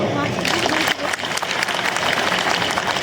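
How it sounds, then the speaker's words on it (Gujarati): A large audience at a Gujarati political rally claps together in a loud, sustained burst, dense and close, continuing evenly for the whole stretch with crowd noise mixed in. "જેને લાગે છે કે આ પડકારને ઝીલી લઈશું એ બધા એક સાથે તાળી પાડો"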